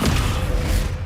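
Descendo spell slamming down in Hogwarts Legacy on PS5 Pro, a brief heavy thudding impact with a deep low rumble that fills the whole moment, no voices.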